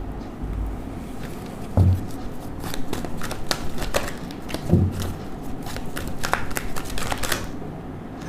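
Tarot cards are shuffled and riffled by hand, giving soft papery flutters and light snaps with a few sharper taps, close and fairly quiet, with no talking.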